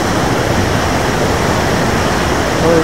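Water rushes through a floodgate at the nine-gate Rolak Songo weir, a loud, steady broadband roar that fills the whole clip.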